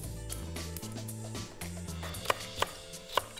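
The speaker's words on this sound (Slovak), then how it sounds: "Nakrájame na menšie kúsky." A knife cuts parsley root and potatoes into small pieces in a kitchen, with a few sharp, distinct chops against a board over a low background hum, no talking.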